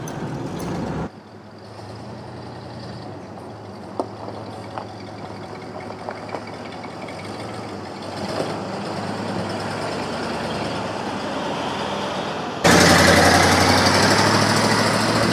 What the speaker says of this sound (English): This thing runs about what I would expect this car to run like.